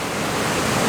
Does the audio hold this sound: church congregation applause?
no